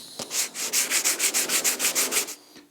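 Hand sanding of a truck cab's epoxy coat with 150-grit paper, about a dozen quick, even strokes in a regular rhythm, close and fairly loud, that start after a light knock and stop abruptly.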